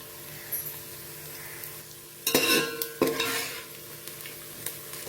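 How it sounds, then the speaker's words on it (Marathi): Onion and peanuts sautéing in a pan, a low background sizzle broken by a few bursts of clattering stirring and scraping in the middle, then quieter scrapes toward the end, no talk. "कांदा पण आपला चांगला परतला गेलेला आहे आणि शेंगदाणे पण असे मस्त परतले गेलेले आहेत"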